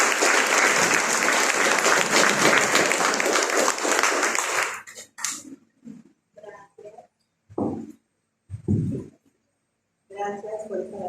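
An audience at a book presentation gives Dolly a loud, dense round of applause lasting about five seconds, then it stops abruptly and scattered speech and small sounds follow.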